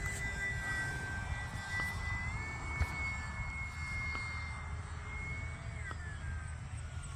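An E-flite UMX Pitts S-1S radio-controlled model biplane flies overhead, its small electric motor giving a steady high whine that rises and dips in pitch as it maneuvers, continuous and moderately loud against open-air background.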